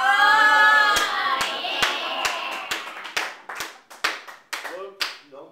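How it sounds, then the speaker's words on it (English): A comedy club audience claps in scattered, sharp individual claps that thin out over a few seconds after a burst of laughter and noise, fairly close and loud. "no more claps, please"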